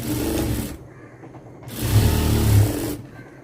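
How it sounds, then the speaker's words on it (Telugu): A sewing machine running a double line of stitching along the shoulder seam of a lined blouse, two steady motor bursts close by with a pause between them and no talk. "భుజాల జాయింట్కి డబుల్ స్టిచ్ వేసుకోండి."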